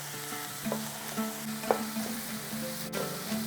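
Egg bhurji being mixed with vegetables in a frying pan: a steady sizzle with repeated soft scraping and stirring strokes of a spatula, close and continuous with no talk.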